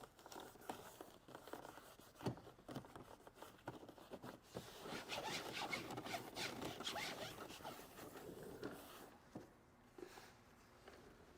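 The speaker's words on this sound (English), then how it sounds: "I'll just drag the microfiber across the surface and let it level things down a bit" A microfiber cloth drags across a Corvette interior surface in a quiet, close series of soft scratchy rubbing strokes, with no voices.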